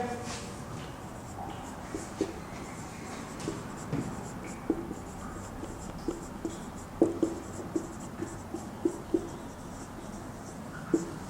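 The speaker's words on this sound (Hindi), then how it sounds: "इसी सेंटेंस को यो लिख करके देख लेते हैं" Chalk or marker writing a sentence on a classroom board, a run of close tapping and scratching strokes that grows busier toward the end, with faint room noise.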